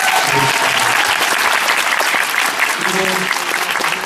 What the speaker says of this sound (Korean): 여러분들께 박수를 보내드리겠습니다